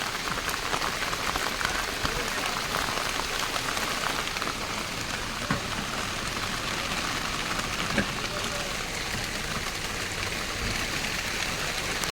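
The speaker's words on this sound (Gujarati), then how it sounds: "તો ગાઈસ જોઈ શકો છો વરસાદ ચાલુ છે." Steady rain pouring down outdoors after a wedding procession program, a dense constant hiss of drops hitting surfaces, close and fairly loud with no talk over it.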